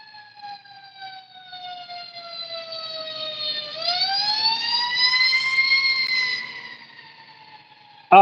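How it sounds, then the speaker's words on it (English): A wailing emergency vehicle siren sweeps slowly down, then jumps and rises again, loud and sustained for several seconds before trailing off, ending in a sudden bump. "when them sirens hit, man, that thing is just echoes through my ear"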